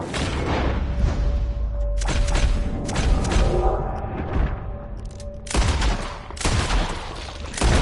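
Repeated loud gunshots crack and boom in the western video game Red Dead Redemption 2, clustered bursts of firing with short gaps between volleys, close and forceful, with no talking.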